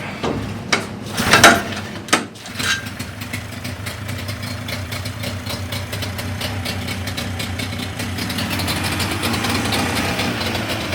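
A rebuilt Yamaha 30A outboard motor starts with a few sputtering bursts, then settles into a steady, continuous idle hum with faint rattling vibration throughout.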